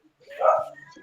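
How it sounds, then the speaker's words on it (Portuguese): A dog gives a single short bark, moderately close, amid quiet surroundings with faint voices. "Olha o cachorro."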